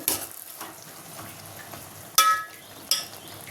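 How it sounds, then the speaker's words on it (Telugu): Gongura leaves cooking in a little oil with turmeric and salt, giving a soft, steady sizzle at close range, with two sharp utensil clinks against the pan partway through. "ఇది కొంచెం నూనెలో ఫ్రై అవ్వాలి కదా"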